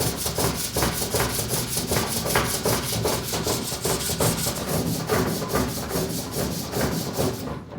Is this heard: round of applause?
no